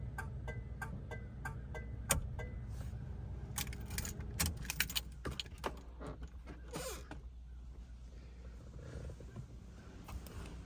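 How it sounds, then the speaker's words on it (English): Mechanical turn signal flasher on a 1975 Oldsmobile Delta 88 Royale, ticking in a steady, evenly spaced rhythm inside the cabin, moderately loud over a low engine hum, with a few irregular clunks mixed in. "you have the wonderful turn signal. Gotta love that mechanical noise on these vehicles."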